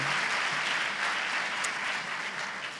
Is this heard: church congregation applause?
yes